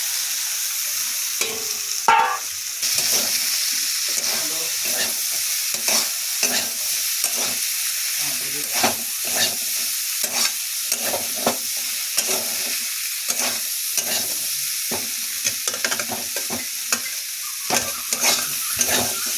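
A fig and potato curry being stirred and fried in a pan, with a steady sizzle and repeated scraping strokes of the spoon throughout, close and fairly loud, with no talking.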